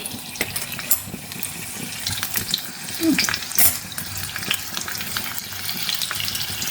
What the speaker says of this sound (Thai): เดี๋ยวจะไปทอดนะเพื่อนๆนะ โอเค น้ำมันร้อนละ ลงไปเลย